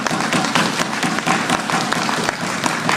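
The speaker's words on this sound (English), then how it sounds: "Big round of applause." A live audience applauds, a dense, steady wash of many hands clapping close by for the full three seconds with no voices over it.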